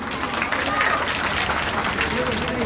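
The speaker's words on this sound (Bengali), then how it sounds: "কতটা খুশি হয়েছেন একটা জোরে হাততালি দিয়ে বুঝিয়ে দিন।" A crowd applauds loudly and steadily at the opening of a Technope bank branch in Ghatal, the dense clapping filling the whole moment with a murmur of voices mixed in.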